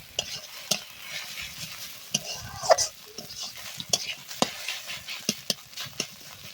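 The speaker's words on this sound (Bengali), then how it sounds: "এভাবে কিছুক্ষণ নেড়ে ভেজে নিলে আমাদের ডিম দিয়ে ঝোড়া আলু ভাজা রেডি" Egg and shredded potato fry in a pan as a spatula stirs them, with soft sizzling under a series of sharp metal scrapes and taps at irregular intervals, close and fairly quiet.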